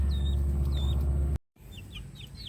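Young chicks eating a new mix of feed, heard as repeated short chirps over a steady low background hum, broken by a brief gap and then a few quicker peeps.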